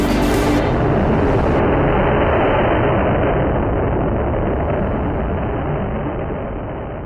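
A 1000 lbf rocket motor firing outdoors, roaring as a loud, continuous broadband blast for about seven seconds with no pause, fading slightly toward the end, with no voices.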